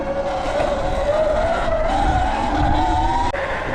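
An electric bike speeds down a sidewalk, its motor whine climbing steadily in pitch over loud rumbling wind and tire noise, recorded close and continuous.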